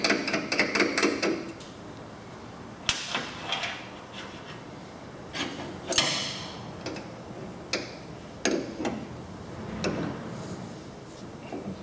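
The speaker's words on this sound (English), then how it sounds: "Tighten the nut." Left-handed nut being tightened by hand on the cutter head of a Norfield Rev Series Magnum planer, giving a series of sharp metallic ticks and clicks, several close together at first, then spaced taps, near and alone with no talk.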